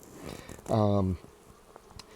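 A single bee from a honey bee swarm settling into a hive buzzes close by in one loud, steady burst of about half a second. Faint outdoor background surrounds it, with no talk.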